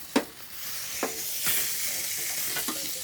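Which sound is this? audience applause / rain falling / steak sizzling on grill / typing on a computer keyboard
steak sizzling on grill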